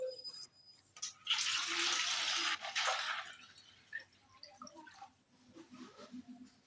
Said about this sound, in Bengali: এখন আমি এই একটা গামলি নিয়েছি গামলির মধ্যে এখন জল নেবো